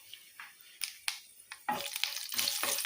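Whole spices dropped into leftover hot oil after frying aubergine, giving a run of short crackling bursts that swell into a continuous sizzle near the end.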